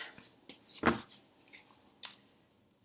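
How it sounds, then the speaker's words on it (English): A deck of tarot cards is cut by hand. A few soft, brisk card slides and snaps come at close range in a quiet room, with no talking. "I'm going to just cut this deck"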